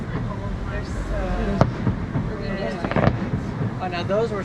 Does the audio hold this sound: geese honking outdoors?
no